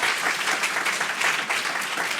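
Audience applause at a conference talk in Geneva, a dense, steady wash of many hands clapping that stays loud and even throughout without breaks.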